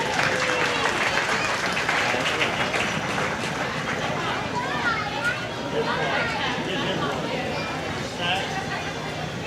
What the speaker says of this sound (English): But please give him a nice round of applause.